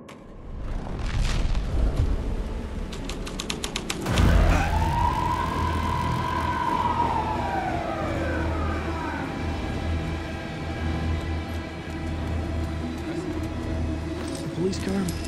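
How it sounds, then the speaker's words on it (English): A police car siren in the Alan Wake 2 video game wails up and then sweeps down in one long loud tone after a stretch of clicks and rustle, with other siren notes lingering over a low rumble. "Police car?"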